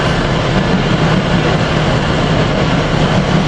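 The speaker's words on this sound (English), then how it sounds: "we got ACS engine 609 leading this regional into Philadelphia." Amtrak ACS-64 electric engine 609 heads a regional passenger train into Philadelphia, producing a continuous loud roar of rolling wheels with faint clickety-clack, heard up close and without any talking.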